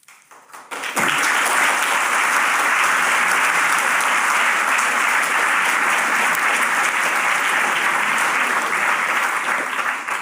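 A large audience at a political speech applauds loudly and steadily, a dense wash of clapping that starts abruptly and continues without letup.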